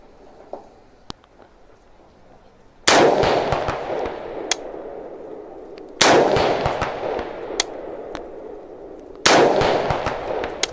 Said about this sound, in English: I just want to make sure that we're shooting zeroed.